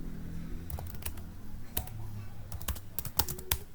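Keys clatter on a computer keyboard while a router is configured, an irregular run of sharp clicks at close range with no voices.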